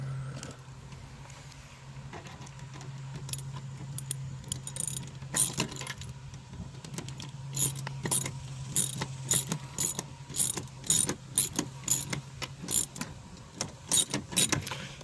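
A ratchet tightening bolts on the door panel support of a 2008 Mazda Tribute, rapid clicking bursts in quick repeated strokes growing steadier and louder toward the end over a low background hum.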